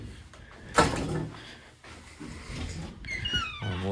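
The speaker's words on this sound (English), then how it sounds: "make sure this door shuts all the way." A heavy school door thuds shut near the start in a pre-K through first grade building, followed by low rustling, footsteps and a squeaky creak toward the end.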